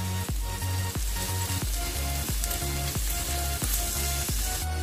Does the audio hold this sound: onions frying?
yes